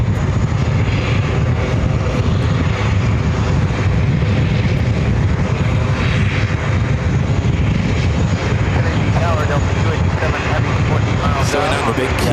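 Large passenger jet at JFK taking off from runway 13 right, a loud steady engine roar filling the whole stretch, with a voice talking over it.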